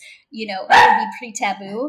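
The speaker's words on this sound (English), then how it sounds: "That's my dog. I wanted to say hello." A dog lets out a loud, close bark in the middle of a conversation, with speech running before and after it.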